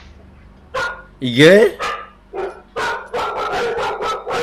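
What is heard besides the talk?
dog barking on security camera footage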